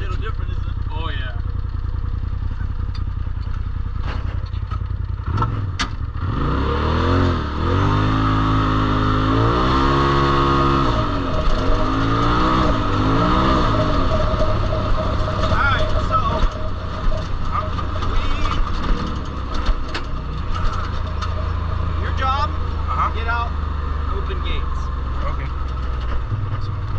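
A Polaris RZR off-road vehicle drives on a trail, its engine rumbling steadily and loud throughout with rising and falling revs as it accelerates, while people talk over it.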